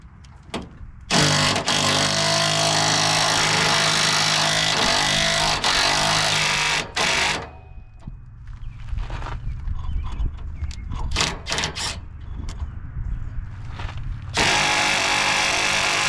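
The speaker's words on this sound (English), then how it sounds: "Looks like the old 3/8 impact just ain't enough." A 3/8-inch impact wrench working on a bolt while a trailer chain is being installed. A long, loud burst of rapid hammering comes first, then a stretch of scattered clanks and rattles, then another loud burst.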